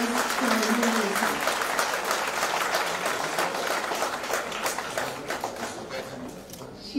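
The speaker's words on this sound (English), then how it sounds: "a big round of applause for Mona Lisa" An audience applauds a woman named Mona Lisa at a homeopathy institute gathering, steady dense clapping across the whole stretch that eases slightly near the end, with faint voices mixed underneath.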